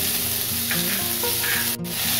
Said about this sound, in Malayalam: ഇനി നമുക്ക് സബോള ഇട്ട് വാട്ടാം.